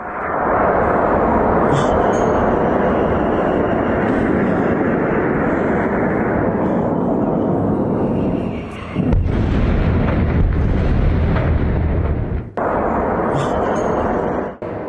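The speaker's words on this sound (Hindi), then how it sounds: "ये ईरान की दागी गई इजराइल पर मिसाइल है।" An Iranian missile fired at Israel makes a loud, continuous roaring rumble, with a heavier, deeper blast-like surge partway through before the roar carries on.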